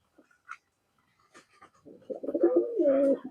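Young pigeons give soft, low cooing calls close by, with a few faint taps and rustles before the cooing swells.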